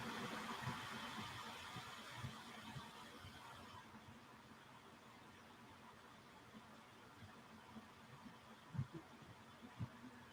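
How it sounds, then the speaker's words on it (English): A household electric fan runs in a kitchen, a faint steady whir with low hum and a few soft knocks and clicks. "I need to turn on my other fan because we don't want the fire alarm to go."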